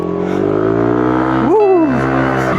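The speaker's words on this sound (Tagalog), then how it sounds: "Dinig nyo ba yung pipe natin guys? JM Muffler lang yan syempre." A motorcycle fitted with a JM Muffler exhaust pipe drones at a steady pitch, then revs up sharply and falls back, loud and close.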